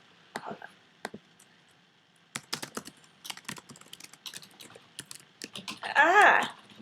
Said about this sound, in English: you started typing in it